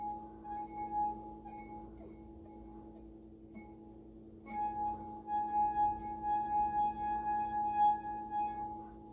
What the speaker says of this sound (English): put your finger in just to get it a little wet and rub it along the top of